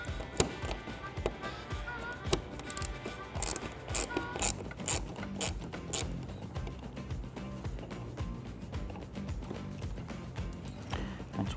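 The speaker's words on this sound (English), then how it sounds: "So now I'm going to take my T20 Torx with my 1/4-inch drive ratchet." A 1/4-inch drive ratchet with a T20 Torx bit clicks in quick irregular bursts, working bolts loose on a 2015-2022 Dodge Charger during a side marker light install, with light tapping and handling noises close by.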